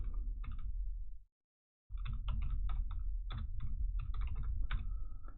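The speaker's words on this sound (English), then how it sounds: "you'll notice my typing just kind of goes to pot during these sessions" Fast typing on a computer keyboard, loud and close, with dense clusters of key clicks, a brief pause near the start, then steady irregular tapping.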